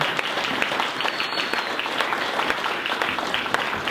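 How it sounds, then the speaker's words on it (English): An audience at a talk on bloggers and YouTube stars applauds the speaker, a steady dense wash of clapping that holds at an even level throughout. "let's give our speaker one last round of applause."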